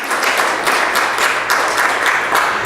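A church congregation breaks into loud, dense applause during a sermon, with many hands clapping continuously and evenly for the whole stretch and no voices heard over it.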